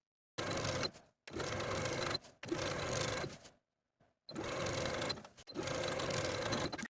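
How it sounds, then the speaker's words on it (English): A sewing machine edge stitches along a pressed inner fold around a garment hem, running in five close, steady bursts of rapid whirring separated by short pauses. "Then we'll edge stitch along that pressed inner fold all the way around the bottom of the garment."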